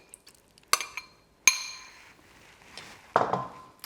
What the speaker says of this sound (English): these are potatoes, Irish potatoes, of course, and they're already cooked. So in they go.